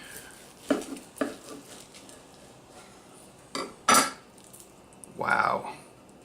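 Knife and fork cutting into a crispy stuffed turkey breast filled with sausage, Gouda and spinach, giving a few separate crunchy scrapes and clinks against a plate, close and fairly quiet, with no talking.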